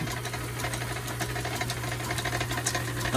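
A lathe turns the outer diameter of a transfer case flange yoke, holding a steady low mechanical hum and drone with faint ticking and rattle throughout, and no talk.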